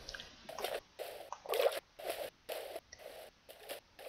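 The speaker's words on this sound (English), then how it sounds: "You're going to kill me by splashing?" Magikarp using Splash in the Pixelmon Minecraft mod, a series of short, evenly spaced watery flopping sounds repeating about twice a second, clear and without talk.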